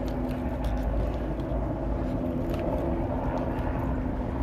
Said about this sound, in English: But you can hear the helicopter up in the air.